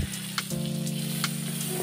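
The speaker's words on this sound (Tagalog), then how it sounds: "Umawin lang ang butter." Butter sizzles and crackles in a hot pan as it melts for gravy, a close, continuous frying hiss with faint stirring scrapes and no speech.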